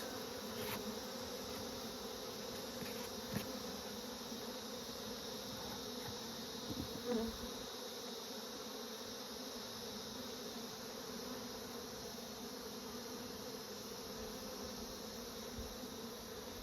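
Bees buzz around nucleus hives at an apiary site, a faint steady hum continuing without pause, with a few brief ticks and knocks.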